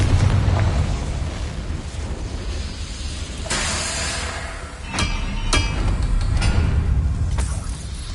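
Confringo explosion spell in Hogwarts Legacy: a loud, rumbling blast with crackling debris and a few sharp bursts, dense and continuous, up close with no talking.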